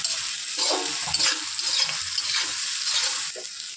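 Capsicum stirred in a frying pan for a chicken chotpotari dish, a steady close scraping and shuffling over a constant oily sizzle, with no talk.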